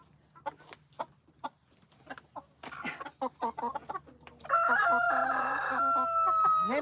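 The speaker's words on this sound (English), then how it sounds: "These chickens is all in my chair." Chickens cluck around a chair, short scattered clucks close by, then a rooster crows loudly near the end.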